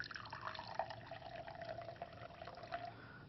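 Vinegar being poured into a glass, with baking soda in a lab experiment, makes a faint, quiet trickle of liquid lasting a few seconds.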